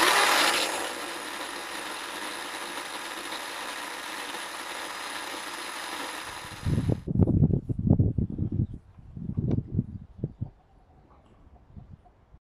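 A VEVOR 2-in-1 cordless mini pruning chainsaw runs with a steady, close electric whine for about six seconds, then cuts off. A few irregular low thumps and handling knocks follow.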